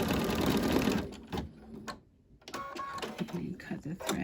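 An embroidery machine stitching a planner cover runs in rapid mechanical bursts, its rhythm faltering and skipping with a brief pause midway, while a person talks over the clattering needle.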